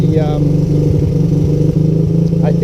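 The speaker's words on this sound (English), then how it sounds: "See how it's idling better once I turn the gas off?" A small engine on a Honda ATC200S three-wheeler idles steadily up close, a continuous low rumble with an even, pulsing throb, running better with the gas turned off.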